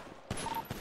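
Two quick shots ring out a fraction of a second apart during a prison-breach shootout in the GTA role-play game NoPixel, fairly faint and clipped, with nothing else over them.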